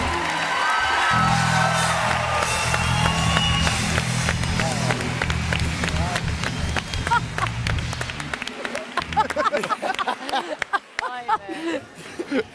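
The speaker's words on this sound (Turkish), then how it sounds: "Gel gel bir alkış diyeceğiz şöyle ya." Studio audience on a Turkish TV talk show claps and cheers, a dense wash of applause with whoops that thins into scattered claps near the end, while voices talk over it.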